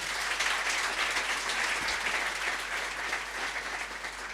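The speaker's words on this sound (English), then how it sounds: "Big round of applause, ladies and gentlemen." Sustained audience applause at a strategic goals workshop and expo, a dense, steady wash of many hands clapping with no voices standing out.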